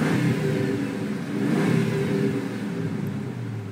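A 5.7L HEMI V8 in a 2004 Dodge Ram idles and hums steadily with a low, rumbling drone, heard up close from the cab with the window down and swelling slightly midway.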